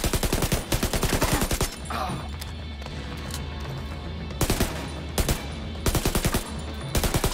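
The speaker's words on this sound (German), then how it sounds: "wie die Schüsse vom Auto abprallen" Rapid bursts of machine-gun fire in The Division 2 rattle loudly in quick volleys, bullets ricocheting off a car, separated by a stretch of engine rumble between them.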